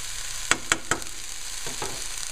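Finely chopped onions sautéing in a pan, a quiet sizzle underneath three sharp utensil clinks followed by softer scraping stirs.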